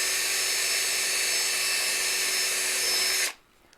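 A power drill bores steadily through a workpiece with a loud, continuous high whine that stops abruptly near the end, leaving near silence.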